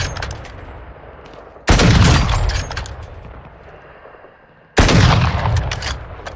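Gunfire in the online shooter game DMZ comes in two loud, abrupt bursts with broad blasts and tails, separated by quieter game ambience.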